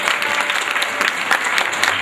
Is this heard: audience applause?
yes